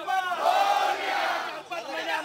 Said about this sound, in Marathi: घोषणाबाजी सुरू आहे, कार्यकर्ते आनंदात आहेत